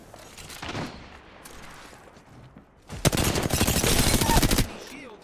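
Video game shootout gunfire: faint scattered shots at first, then a loud, sustained burst of rapid automatic fire for about a second and a half before cutting off.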